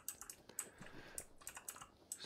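Computer keyboard and mouse clicked during a PUBG match: quiet, irregular keystrokes tapping in quick bursts, close and faint, with no talk.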